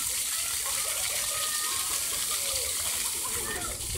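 A water fountain show on Kish Island throws out a loud, steady rush of splashing and gushing water that fills the whole stretch without pause.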